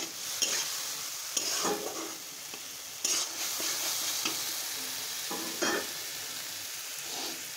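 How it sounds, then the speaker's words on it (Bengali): A spice masala sizzles in a pan as it is stirred, with steady frying hiss and repeated scraping strokes of a spoon, close and moderately quiet. "মশলাটা সুন্দর করে ভেজে নিতে হবে"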